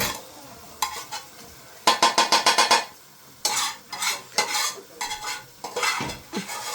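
Chicken cooking in a pot over a smoky tandoori-style setup, with a spoon scraping and knocking against the metal in quick bursts of rapid taps, with sizzling between the strokes.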